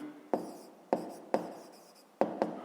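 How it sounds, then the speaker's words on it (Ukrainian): Pen writing a math answer by hand on paper, several short scratchy strokes in an irregular rhythm, close and quiet. "Пишемо тоді відповідь"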